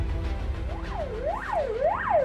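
An ambulance siren wails in rising and falling sweeps, loud and fairly close over a low rumble of traffic.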